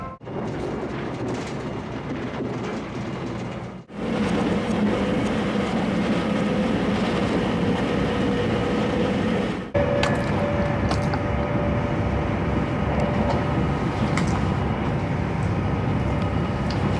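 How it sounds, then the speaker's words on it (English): A Trans-Pennine Express train runs between Preston and Edinburgh Waverley, a steady rumbling interior drone with brief dips and soft rattles, heard without talk. "we'll be catching the Trans-Pennine Express from Preston up to Edinburgh Waverley"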